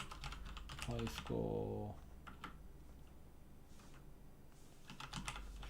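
Computer keyboard typing during a coding session, light scattered key clicks in short bursts, faint and close, with a person talking briefly over them.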